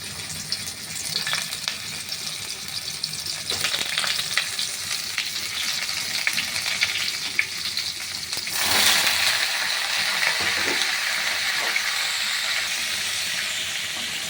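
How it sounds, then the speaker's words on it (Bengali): Steamed cauliflower pieces fry in oil with a loud, continuous crackling sizzle that swells and grows hissier partway through, with occasional utensil clinks and no talking. "এই ভাপানো ফুলকপিগুলো ভেজে নেব।"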